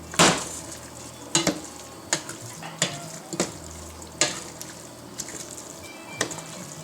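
Browning meat in a pan for okra stew gives a steady sizzle broken by about a dozen sharp stirring scrapes, spaced roughly every half second to second, close and fairly loud.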